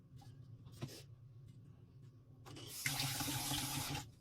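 Water gushes from a tap in a loud, steady stream for over a second, after quieter kitchen clatter and a brief earlier splash, while measuring water for cooking rice.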